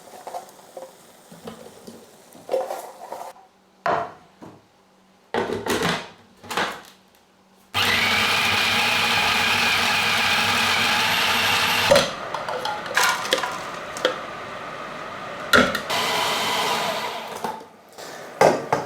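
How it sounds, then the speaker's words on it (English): A food processor blitzes bread crusts and leftover bread into crumbs in a steady, loud whirring burst of about four seconds, with clattering bangs and knocks before and after it and no talking. "I can get these put into the food processor and blitzed up into a crumb"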